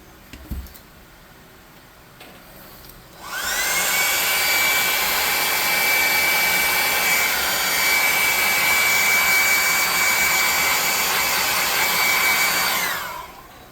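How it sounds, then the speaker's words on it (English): A handheld blow dryer roars on loud and steady for about ten seconds, drying fresh paint on a crafted cleaver in a home workshop, then cuts off; a brief quieter stretch comes before it starts. "I'm going to hit this with the blow dryer and pick up a little spots that need a double coat."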